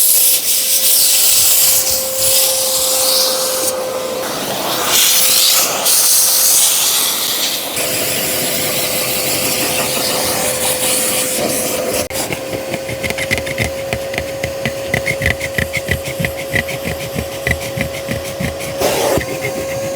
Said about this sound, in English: Now I'm going to hoover the carpet out in situ first and foremost.